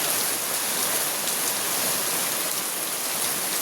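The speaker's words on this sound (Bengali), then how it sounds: "বৃষ্টিটা হচ্ছে" Heavy afternoon rain falls steadily outside a rural home near ponds, a dense, even wash of hiss that continues unbroken from start to finish without any voices.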